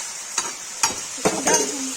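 Cauliflower and potato with onion roasting in a pan, a few quiet scraping and stirring strokes spaced about half a second apart over a faint sizzle.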